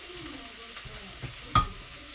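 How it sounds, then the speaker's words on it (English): Chopped garlic sizzles in a pan with softened brown onions, a low steady frying hiss broken by a few spoon stirs and one sharp clink near the end. "So we can add the garlic, 2 cloves of garlic chopped."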